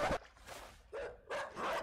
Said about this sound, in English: Dog is not nice dog! Dog is bad dog!